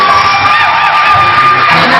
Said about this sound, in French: suivies d'acclamations du public.